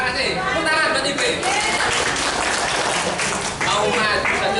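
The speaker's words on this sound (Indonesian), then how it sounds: "Tepuk tangan buat Ibu." Clapping from the audience at a Qur'an recitation class greets a woman who has come forward, a scattered round of applause mixed with voices talking over it.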